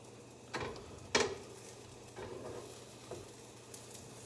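Spatula scraping and nudging French toast in a frying pan, with a soft sizzle underneath and a few brief scrapes and taps against the pan, fairly quiet and close.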